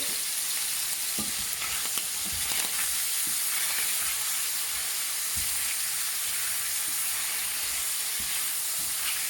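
Shrimp fry with garlic, black pepper and piment d'Espelette while being stirred, giving a steady close sizzle with scattered scraping stir clicks throughout, no voices.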